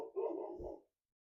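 A dog barks once or twice nearby, a short muffled woof in an otherwise quiet indoor room.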